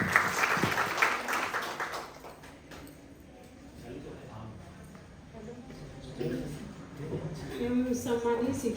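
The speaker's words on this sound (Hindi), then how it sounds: "जोरदार तालियों से अभिनंदन और स्वागत करें" Applause at a school cluster farewell and honour ceremony welcoming a teacher: loud clapping from a crowd fills the opening seconds, then fades into room noise as a speaker begins talking.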